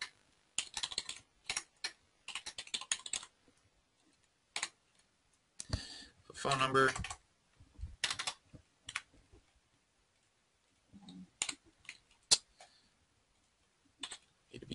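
Someone fills out a web form on a computer keyboard, with irregular bursts of quick key clicks separated by pauses, close and fairly quiet, and one brief spoken phrase.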